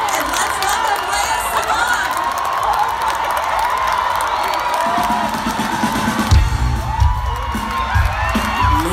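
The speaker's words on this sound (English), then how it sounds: "Let's give a huge round of applause and if all of you can stand up on your feet" A large live audience cheers, whoops and applauds a performer's entrance, a loud, sustained roar of clapping and shouting that swells further in the second half.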